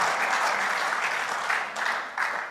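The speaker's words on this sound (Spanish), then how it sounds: "¿Cuánto le da un aplauso al Señor?" Church congregation applauding steadily during a sermon, a dense, continuous wash of clapping from a full room that holds level throughout.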